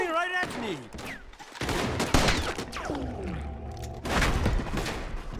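Gunfire in Red Dead Redemption 2 cracks out in sharp bursts during a chaotic shootout, mixed with game music and shouting voices throughout.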